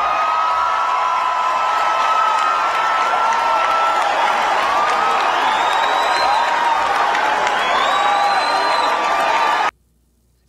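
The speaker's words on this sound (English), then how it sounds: "And these Negroes was actually cheering." Large crowd cheering and applauding at a political gathering, a steady dense roar with whoops and whistles rising over it, sustained for about ten seconds and then cut off abruptly.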